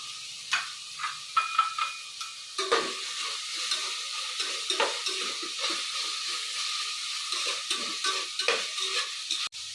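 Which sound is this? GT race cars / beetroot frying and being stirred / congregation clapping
beetroot frying and being stirred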